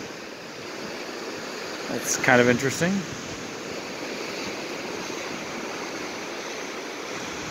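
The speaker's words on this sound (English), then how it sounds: "the waves are blowing in from the east" Waves break steadily along an undeveloped Lake Michigan shoreline as wind gusts across the microphone, a continuous surf rush from start to finish, with a voice speaking briefly over it partway through.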